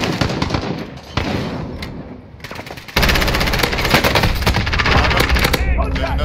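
MP7 submachine gun firing in a shooter video game, rapid automatic bursts that crackle loudly and close, with a brief lull before a sustained heavy stream of fire, while players talk underneath.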